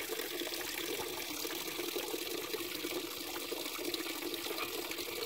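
Continuous gurgling and splashing of a small waterfall stream echoing across a courtyard, steady and fairly close, with no voices.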